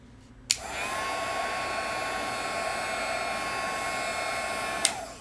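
A heat gun blows hot air over clear embossing powder, a steady loud whirring hiss that starts with a click, holds evenly for about four seconds, then cuts off with another click.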